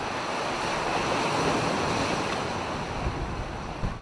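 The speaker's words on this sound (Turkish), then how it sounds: "Rüzgar sahil kenarlarında bulunan restoranları ve barları vurdu." Stormy wind and crashing surf along the Bodrum coast make a steady, loud roar of waves and gusting air, with wind buffeting the microphone and a couple of sharper surges near the end.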